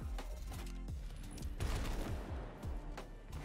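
Sweet Business auto-loading gun firing in Destiny, a rapid, dense stream of gunfire with overlapping shots and booms, loud and continuous for a few seconds with no talk.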